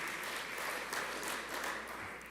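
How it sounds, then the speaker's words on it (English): An audience at a national honours and investiture ceremony claps in a dense, steady wash of applause, full and sustained throughout. "Let's give them another round of applause."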